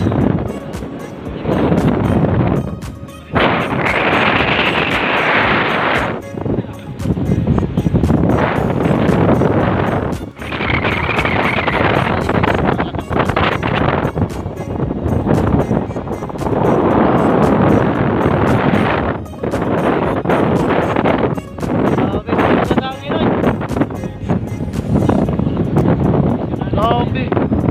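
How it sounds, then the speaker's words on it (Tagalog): Very strong wind buffets the microphone at Panguil Bay Bridge, a loud, continuous roar with gusty surges that runs throughout, and people talk over it at several points. "Sobrang lakas ng hangin guys."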